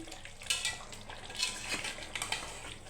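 Mutton curry with chui jhal and garlic is stirred in a pot. A spoon makes quiet scrapes and a few soft clinks against the pot at an irregular pace, with no talking.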